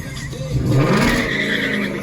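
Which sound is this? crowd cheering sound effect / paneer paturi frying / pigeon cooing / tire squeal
tire squeal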